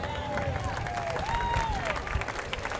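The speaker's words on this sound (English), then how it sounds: "Round of applause." Outdoor crowd clapping at the 2016 Armed Forces Day parade in Torrance, California, a steady dense patter lasting a few seconds with a thin whistling tone gliding over it.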